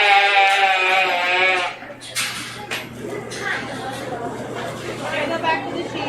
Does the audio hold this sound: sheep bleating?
yes